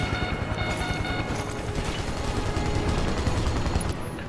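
Rapid gunfire in the video game Final Fantasy 7 Remake, a continuous dense rattle of shots lasting several seconds amid busy battle noise and music.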